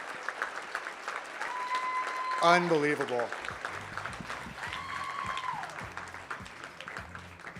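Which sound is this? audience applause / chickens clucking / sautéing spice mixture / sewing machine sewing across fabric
audience applause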